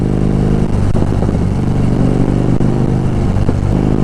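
A Harley-Davidson motorcycle rides through city traffic, its engine rumbling loud and steady up close, with a few brief throttle surges and some clatter mixed into a continuous background of traffic noise. No one speaks.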